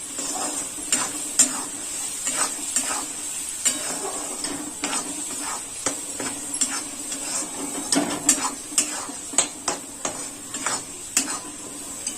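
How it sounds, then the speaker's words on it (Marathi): A pan of homemade masala being stirred and sautéed for Pune-style misal, with repeated spoon scrapes and clinks against the pan over a steady low sizzle, close and moderately loud with no talking. "आता आपल्याला याला असं हलवत राहायचंय. मसाला आपल्याला छान असा परतून घ्यायचा आहे."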